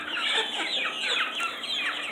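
Chickens clucking at a new chicken tower on a small goat farm, a busy overlapping run of close, moderately loud clucks and squawks with no talking.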